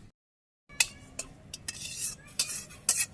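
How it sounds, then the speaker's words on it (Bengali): Onion, garlic and cumin are ground into a paste, heard as a series of short, gritty rubbing and scraping strokes after a brief silence, fairly close and irregularly spaced. "তো আমি এগুলো বেটে নিই।"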